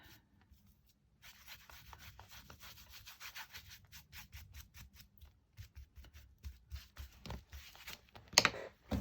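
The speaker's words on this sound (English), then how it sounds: "apply some Slap It On quite liberally to the back of the rice paper" A brush applies Slap It On medium liberally to the back of rice paper, giving soft rhythmic scrubbing and rubbing strokes that grow more frequent, with a brief sharper scrape near the end.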